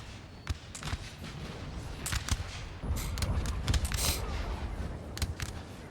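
Sharp cracks of musket volleys from a War of 1812 battle in a Napoleonic strategy game. The shots are irregular and repeated, some distant and some nearer, over a rumbling battlefield bed.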